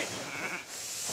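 Sheep bleating inside a shearing shed, a brief wavering bleat rising over background shed noise, fairly close and alone.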